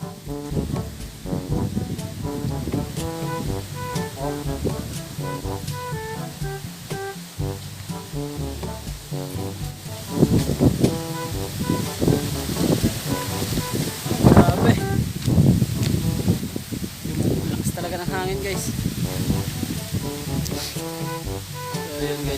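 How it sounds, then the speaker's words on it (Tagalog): Strong wind roars and buffets a microphone throughout on a farm field, with gusts surging louder at moments while a person talks underneath. "Palakas ng hangin guys"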